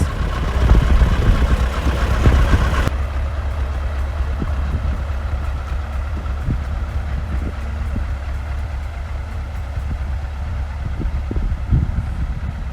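A worn Ursus C-360 tractor engine rumbles steadily with a heavy low drone, a brief surge of revving near the start then settling into a rough, continuous running sound.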